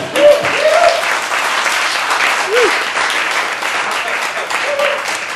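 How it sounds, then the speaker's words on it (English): A stand-up comedy audience bursts into loud, sustained applause after a punchline, a dense wash of clapping with whoops and cheers rising over it throughout. "Let's keep the applause going."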